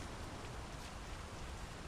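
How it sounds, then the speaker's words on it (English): Steady rain patters on surfaces in a constant, soft hiss with no voices or other sounds. "The rain's picking up."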